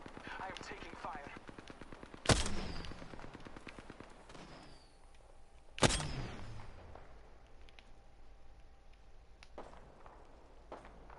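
Video game gunfire: two loud, isolated shots with echoing tails stand out over a busy bed of fainter rapid firing and game noise.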